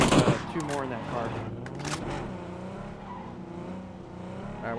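A car engine roars in a video game shooter match, mixed with rapid gunfire bursts and skidding, loud and close, with players talking over it.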